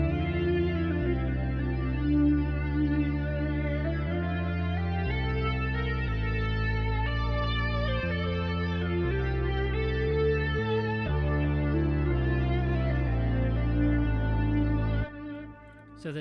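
A soundtrack cue for Camlann Episode 1 built on a distorted Moog bass line that steps through steady notes under layered synth harmonies, ending with a four-note descending run before fading out.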